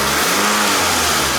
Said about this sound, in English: when I give it gas